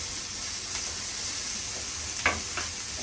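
Onion fries in a pan for a baked beans and egg dish, giving a steady bright sizzle with a couple of short scraping stirs near the end, close and alone without talk.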